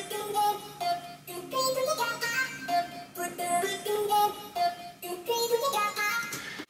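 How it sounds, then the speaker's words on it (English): An arpeggiated vocal chop preset from the Nexus synth plays a steady, bright rhythmic pattern of short chopped vocal notes, stepping through pitches in a dense electronic texture from start to finish, loud and without talk. "it actually has a preset arpeggiated vocal chop in here"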